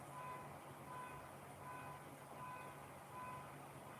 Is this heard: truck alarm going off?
yes